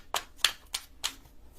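Tarot cards are shuffled in four quick, crisp riffs spaced about a third of a second apart, close and fairly soft.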